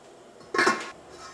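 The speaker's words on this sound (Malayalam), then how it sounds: "നമുക്ക് മൂടി വയ്ക്കാം" A metal lid is set onto a pot of rice cooking in boiling water for tomato pulao. There is a single short clatter, moderately close, over a quiet kitchen background.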